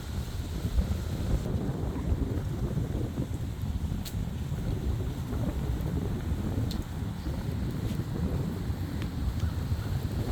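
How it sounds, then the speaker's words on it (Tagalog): Strong autumn wind in Regina, Saskatchewan buffets the microphone outdoors, a loud, continuous low rumble with gusty surges throughout. "lakas ng hangin."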